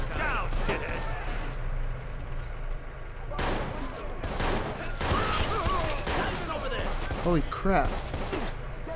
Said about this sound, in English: Where the flip is the shooting coming from?